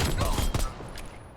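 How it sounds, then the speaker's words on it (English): Rapid automatic gunfire from a video game shooter, driven by a custom controller's rapid-fire mode with the fire button held down, rattles out as a dense, loud burst of repeated shots through the whole stretch. "All I was doing was holding in the fire button and it automatically rapid fires."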